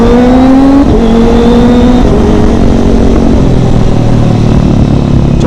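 A Kawasaki ZX25RR fitted with a smooth, restrained carbon Akrapovic exhaust drones loudly and steadily on the move, its engine note climbing and shifting in pitch through the ride.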